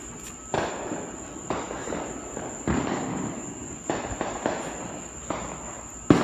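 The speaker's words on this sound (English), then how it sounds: "Y'all can already hear the fireworks going on." July 4 fireworks burst at irregular intervals, a string of sharp pops and crackles at moderate distance over a steady high insect-like whine.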